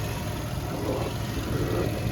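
A Volkswagen Golf Plus engine idles smoothly and quietly, a steady, even, low hum throughout with no talking.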